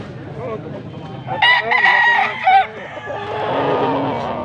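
A Boston sweater gamefowl stag rooster, about 11 months old, crows loudly and close up in one long strained call, with a second crow beginning at the end amid background chatter.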